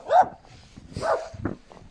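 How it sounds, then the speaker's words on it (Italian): A dog guarding its property on a snowy day barks at a passerby, three or four gruff barks spaced out over a couple of seconds, fairly close and alone. "Ha ragione lui ad abbaiarmi addosso, perché sono vicino alla sua proprietà"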